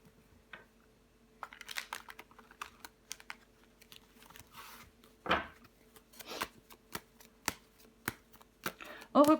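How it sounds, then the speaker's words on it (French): Tarot cards shuffled and laid down one by one on a table, soft papery slaps and flicks in irregular bursts, close and quiet, with a quiet voice speaking now and then. "Je vais recouvrir des cartes."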